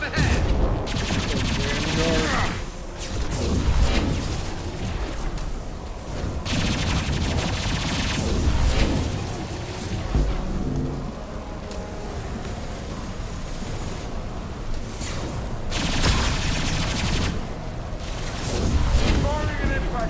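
Gunfire in the video game Mass Effect 2 during a hardcore fight, with impact shots: dense loud bursts of shots and blasts come in repeated waves over a continuous battle din, with talk mixed in.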